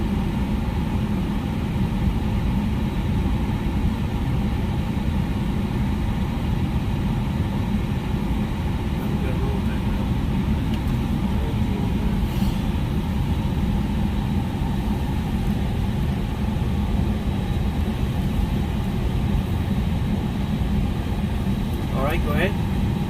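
An aircraft jet engine spools down while its core keeps turning, giving a steady, loud, broad whine and roar that holds unchanged through the whole stretch.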